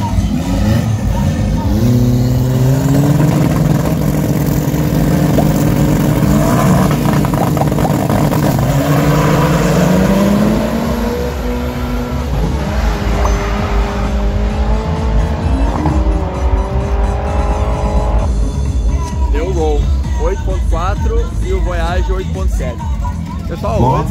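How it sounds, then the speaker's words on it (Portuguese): Volkswagen Voyage or Gol cars at a 1/8-mile drag racing event roar loudly, engines revving and rising in pitch through gear changes, with crowd chatter and announcer talk underneath. "mais um evento de arrancada, 1/8 de milha, 201 metros"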